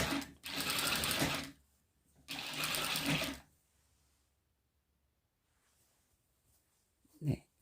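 A sewing machine stitches fabric for a bucket hat in two loud bursts of about a second each, with a short pause between them. A quiet stretch follows, then a brief handling knock at the end.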